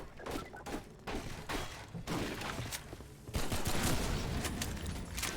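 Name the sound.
gunfire in video game Half-Life 2 MMod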